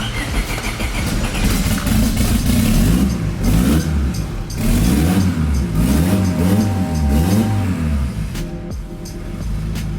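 A twin-turbo Honda Civic engine running loud and close, rising and falling in repeated revs over a rough idle, with small mechanical clatters toward the end.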